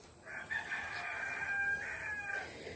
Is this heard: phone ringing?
no